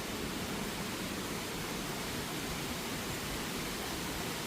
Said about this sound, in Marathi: पुढे आवाज कसं वाढत चाललं बघा कारण पावसाचे दिवस आहेत त्याच्यामुळे पाणी भरपूर आहे